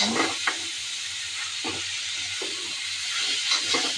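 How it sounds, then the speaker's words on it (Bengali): Greens being stirred as they fry in a pan, a steady hissing sizzle up close broken by several short scraping strokes at irregular intervals, with no voices. "আমি দিদি শাকগুলো নেড়ে তুলে নিচ্ছি"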